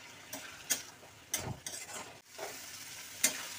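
Banana stem fries in a pan over high heat, a quiet continuous sizzle punctuated by several crisp scraping clicks as it is stirred. No one speaks.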